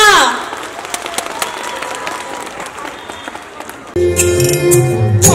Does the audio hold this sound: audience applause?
yes